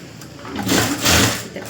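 A sewing machine runs a long stitch through a blouse lining, its motor whirring in two swelling bursts with a brief easing between, close and alone with no voices.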